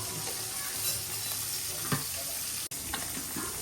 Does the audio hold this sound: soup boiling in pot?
yes